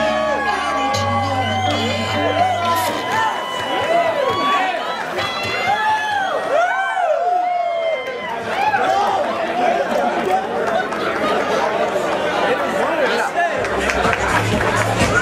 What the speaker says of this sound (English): Clap if you like Samantha. Make some noise if you want her to stay.